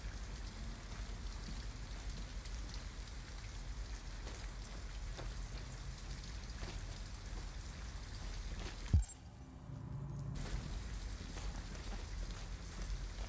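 Rain falls steadily in the video game Detroit, a soft continuous patter throughout, briefly interrupted by a sharp thump and a short muffled gap before the rain resumes.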